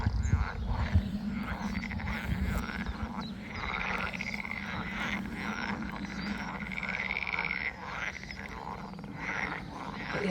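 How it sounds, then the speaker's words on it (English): Many frogs croak together along a Dutch countryside path near water, a dense, continuous chorus of rasping calls that stays steady and fairly loud throughout. "this is home to lots of frogs"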